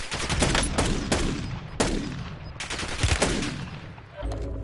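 Video game battle gunfire, a dense mix of sharp close shots and rapid bursts, loud with echoing tails and irregular rhythm, chaotic fighting on all sides.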